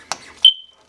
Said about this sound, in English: So that beep is just letting us know that we have power now.